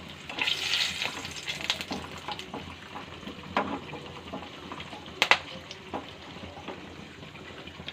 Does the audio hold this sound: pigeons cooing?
no